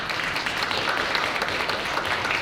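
An audience at an international literary forum marking the first anniversary of Han Kang's Nobel Prize in Literature gives a steady, dense round of clapping throughout, full and even with no voices over it.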